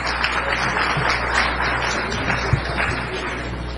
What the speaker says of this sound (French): Je vous demande d'applaudir d'Haïti près de la CARICOM,